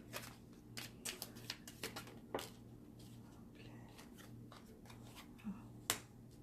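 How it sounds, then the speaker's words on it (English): Small, slippery tarot cards being shuffled by hand, giving a run of quick, close, crisp flicks and snaps with short pauses between bursts, fairly quiet against a low steady hum. "They're so slippery and little, making it difficult to shuffle"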